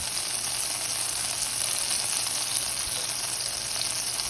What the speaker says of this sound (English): Melting butter is one of the most enjoyable experiences in the kitchen.